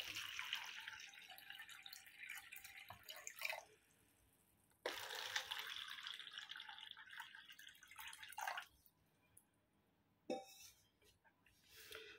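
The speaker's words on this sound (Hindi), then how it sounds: "इसके अंदर पानी डालते हैं।" Water is poured into a small container for a home anti-iron Ujala coin chemical test, heard as close, fairly faint splashing in three bursts separated by short pauses.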